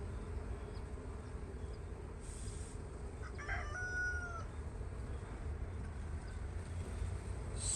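A rooster crows once in the distance early in the morning, faint behind a steady buzzing hum of bees.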